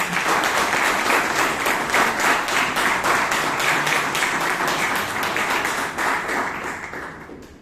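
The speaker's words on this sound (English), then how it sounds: "So please give him a big round of applause." Audience at a Toastmasters club meeting in Bangalore applauds, a dense, steady wash of many hands clapping loudly throughout before tapering off near the end.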